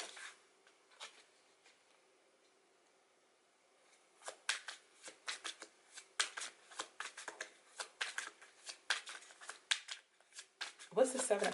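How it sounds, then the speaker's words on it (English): Tarot cards being shuffled by hand, faint riffling at first, then a long run of quick close papery flicks and taps, quiet and alone. "I don't know why I couldn't really shuffle the cards"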